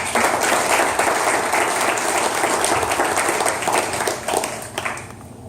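Audience applause welcomes Cleo and Ludy of Project X at a 1 Million Cups startup pitch event in Daytona Beach; sustained, dense clapping fills the room, steady and loud, then thins slightly near the end.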